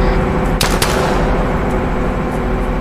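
An accidental gunshot in the military video game Arma 3: two sharp, loud reports in quick succession, set over a steady, dense background rumble.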